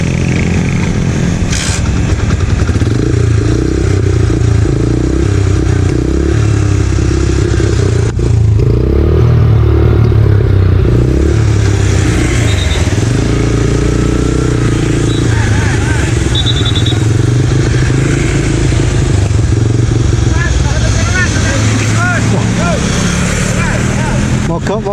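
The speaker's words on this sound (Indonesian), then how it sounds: "Ya akhirnya motornya mogok lagi guys" Motorcycle engine sputtering and dying on the road during a small touring ride, the neutral light no longer on; rough continuous engine and road rumble with clattering, a voice talking over it.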